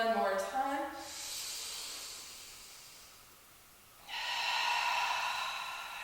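Forceful breath exhales during a Pilates mat workout, two long airy hissing breaths close to the microphone, separated by a quieter pause, after a brief voiced sound at the start.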